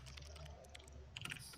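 Computer keyboard keys typed in quick, light clicks, soft and fairly distant, with a brighter flurry of keystrokes near the end over steady low room hum.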